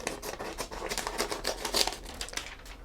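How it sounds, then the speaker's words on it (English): Small scissors on a Wusthof Solingen Swiss Army style knife with a buffalo horn handle snip through paper in a quick run of crisp crinkling cuts, close and fairly quiet, with no talking. "let me demonstrate those scissors"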